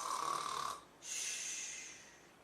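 A voice imitating the big snores of a sleeping girl in a children's story, two drawn-out breathy snore sounds, one rasping inhale then a hissing exhale, close and fairly quiet.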